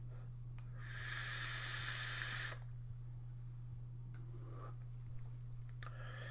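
Vapour is drawn through an Augvape Intake RTA with a single coil at 40 watts and the airflow open, producing a steady close airy hiss for about a second and a half before it stops.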